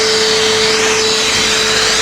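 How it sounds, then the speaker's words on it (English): A vacuum cleaner hoovers inside the cab of a mucky Massey tractor, a loud, steady whine with a shifting suction roar and no talking. "Let's get hoovering."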